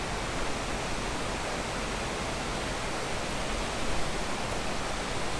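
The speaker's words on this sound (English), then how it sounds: "how even that waterfall is" An even, natural-looking waterfall with a straight top edge at Apostle Islands National Lakeshore in Wisconsin gives a steady, loud broadband rush of falling water, close by and alone with no voices.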